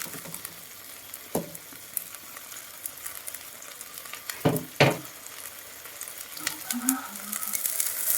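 Greens stir-fry in a hot pan, leaves added after the firmer stems, sizzling and crackling steadily, with occasional scraping stirs and a few sharp clanks of a utensil.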